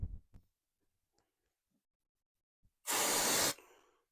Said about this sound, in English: Spray on some activator.